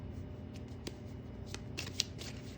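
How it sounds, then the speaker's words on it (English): Tarot cards are shuffled by hand in a quick series of soft riffling, papery slides and light taps, heard close and quiet with no voices. "Let's shuffle some more."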